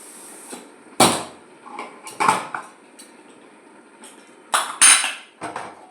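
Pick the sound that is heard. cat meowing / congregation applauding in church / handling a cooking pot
handling a cooking pot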